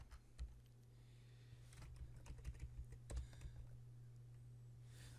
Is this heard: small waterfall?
no